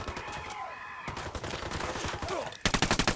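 Gunfire in the video game Ghost Recon Wildlands: rapid bursts of automatic shots in quick succession, loud and close, ending in a sharp rhythmic volley of repeated rounds.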